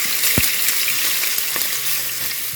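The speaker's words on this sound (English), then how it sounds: "I just added the ham to the oil, and we're just going to cook it a little bit to render down some of that fat" Ham sizzling in hot oil in a home kitchen skillet, a steady close crackle and hiss with a few sharper pops and spatters scattered through it.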